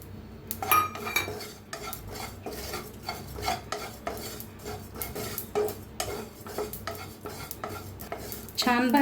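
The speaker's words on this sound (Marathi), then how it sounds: "ह्याच्यात शाही जिरं बी भाजून घेऊया।" Whole spices, shahi jeera, dry roasting in a pan while a spoon stirs them, giving repeated close scraping and rattling strokes with a faint crackle, no talking.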